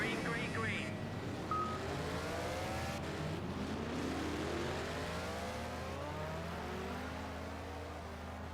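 Race cars roar off the grid at Silverstone in the Project CARS video game, a dense, sustained wall of engine noise with rising revs from many cars at once, loud and continuous.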